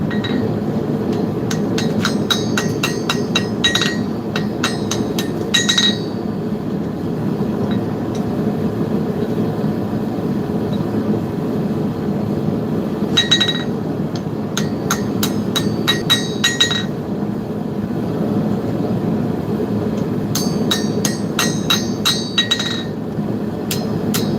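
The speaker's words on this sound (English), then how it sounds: "And this is by far my favorite hammer." Rapid bursts of ringing metallic hammer blows, clustered in three groups, bright and close over a steady low background rumble.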